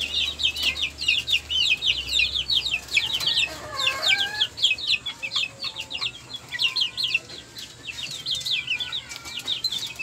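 Chickens in a small backyard coop cluck steadily and chirp in a busy, close chorus, with a few higher calls rising above the flock.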